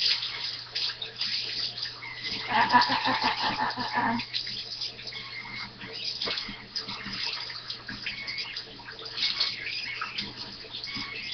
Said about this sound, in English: I try to rinse this stuff so it doesn't become cement